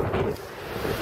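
Strong, freezing wind blows over a lake with big waves and snow, a continuous roaring rush that buffets the microphone, with the wash of water underneath and no talking.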